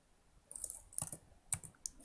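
Typing on a computer keyboard: a few faint, sparse key clicks spread over two seconds, close by and with no talk.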